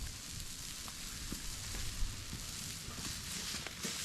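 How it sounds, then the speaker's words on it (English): Burgers fry on a homemade wood-burning rocket stove, giving a steady, close sizzle with scattered pops and crackles throughout and no talking. "these burgers are just frying up so nice"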